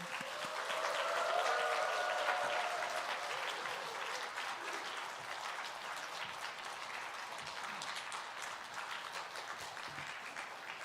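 A church congregation applauds steadily during an afternoon service, a dense wash of many hands that swells early and then holds at an even level throughout.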